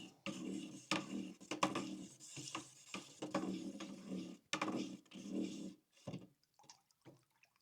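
Repeated clinking and scraping of a utensil against a container while stirring a hydroponic nutrient mixture with Epsom salt, in uneven bursts, close by with no talking.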